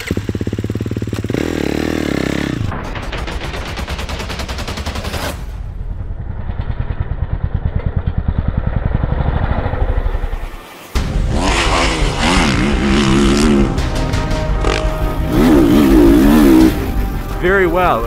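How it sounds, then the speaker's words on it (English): A Kawasaki motorcycle with an engine reworked by the World Superbike team revs hard up through the gears, loud and close, with a brief gap at a shift before it screams on again at higher pitch. "The entire engine's been reworked by the maniacs at Kawasaki's World Superbike team"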